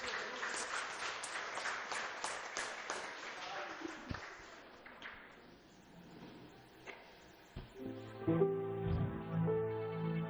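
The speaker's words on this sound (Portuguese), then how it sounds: "vamos dar uma salva de palmas" Scattered clapping from a church congregation builds and fades, under a speaking voice, before music with sustained tones comes in.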